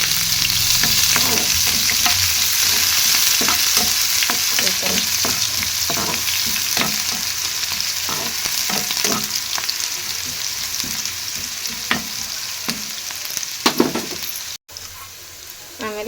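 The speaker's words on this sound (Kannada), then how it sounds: "ಇವನ್ನ ಕರಿಬೇವು ಮತ್ತು ಉಳ್ಳಾಗಡ್ಡಿನ ರೀ ಈಗ ಚಲೋ ತಂಗ ಫ್ರೈ ಮಾಡ್ಕೊಂಡ್ರಿ" Onions and curry leaves fry in hot oil with a steady, dense sizzle and crackle, broken by frequent spatula stirs and scrapes close by, running continuously with no talk.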